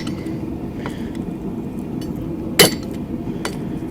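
A hammer strikes a chisel once, grooving a forged steel feather: one sharp, bright metallic crack stands out over a low, steady background hum.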